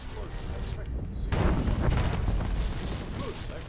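A deep, rumbling blast with a sharp burst of noise, followed by heavy sustained rumble like a building collapsing in a game scene.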